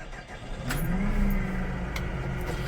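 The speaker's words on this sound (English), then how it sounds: "Now we're ready to start the tractor." A Deutz Fahr 5110 tractor engine cranks and catches, settling into a steady low idle that sounds close and fills the cab after a brief starter whir.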